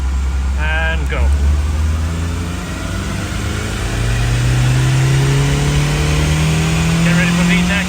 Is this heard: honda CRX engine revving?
yes